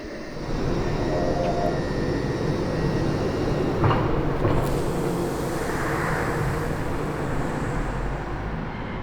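A passing train on a line serving Cramlington and Morpeth rumbles steadily and loudly for several seconds, a broad continuous roar with faint high squeals, no talk.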